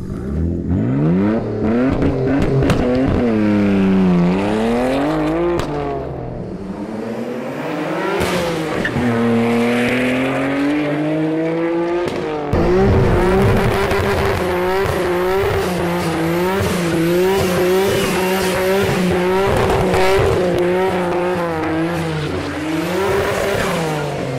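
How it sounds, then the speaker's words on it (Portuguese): Nissan Skyline R33 engine roaring loud and close, revving hard through rising and falling harmonic sweeps with a brief break near the middle, then sustained high-rev howling, with hints of tire squeal and no talking. "Agora mostra aí o R33 do René"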